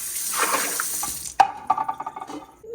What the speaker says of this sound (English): I'm going to put 8 cups of water in my Instant Pot.